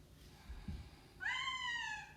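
A single drawn-out meow, in a voice imitating a cat, rises and then falls during a kids' yoga cat pose, after a quiet stretch with a soft thump.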